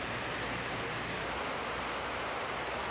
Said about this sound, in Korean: 대재앙의 현장에는 인공 폭포를 만들었다